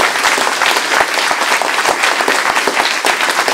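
A crowd at a municipal all-candidates meeting gives a loud, sustained burst of applause for the hosting Chamber, dense and even clapping filling the room from start to finish.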